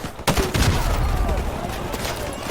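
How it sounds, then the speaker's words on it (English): Sustained gunfire in Call of Duty Modern Warfare Remastered as a Marine fires on enemies in an adjacent building during urban combat, a dense burst of rapid shots starting abruptly and continuing loud and unbroken, with a voice faintly under it. "Jackson continues opening fire, gets some vengeance on his fallen Marine"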